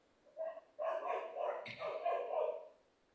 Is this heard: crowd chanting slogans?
no